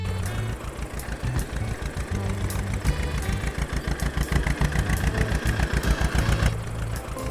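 A tractor engine runs close by with a steady, rhythmic chugging idle, each firing pulse distinct and repeating evenly throughout, with faint rattles on top.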